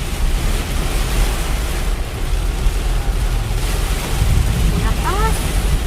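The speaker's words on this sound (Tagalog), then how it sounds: "Grabe, lakas ng hangin." Strong storm wind roars continuously as a loud broadband rush during a drive through a dark storm, with faint voices and a brief high siren-like tone near the end.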